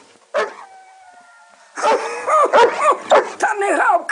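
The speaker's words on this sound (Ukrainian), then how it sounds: "Та не гавкай, хоть ты на меня!" A dog yelps and barks in short bursts close by, mixed with animated voices talking over it in an old 1964 Ukrainian village film scene.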